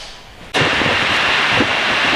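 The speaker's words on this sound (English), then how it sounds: "you'll have to excuse the rain noise" After a brief quiet moment, a loud, dense rain noise suddenly starts and continues as a steady close rushing hiss.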